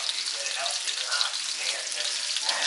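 Pork chops fry in hot oil for a Japanese-style pork chop, giving a steady, close, bright sizzle with crackling pops and no pauses throughout.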